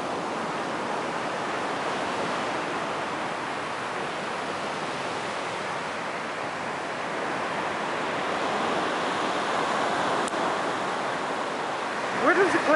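Ocean surf on a remote, wide stretch of Klamath Beach in Northern California, a continuous broad wash of breaking waves close by, steady and loud throughout with some wind rumble on the microphone.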